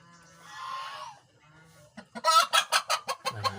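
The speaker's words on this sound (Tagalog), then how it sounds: "Yan ang aking mga manok." Brown Dekalb chickens cluck in a rapid series of close, loud bursts, following quieter drawn-out hen calls earlier on.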